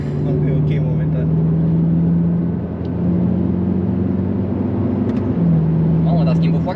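A 750 hp BMW M6 engine pulls hard from inside the cabin, its loud steady drone briefly dipping mid-run as the dual-clutch gearbox shifts, then climbing again, with a little talk underneath.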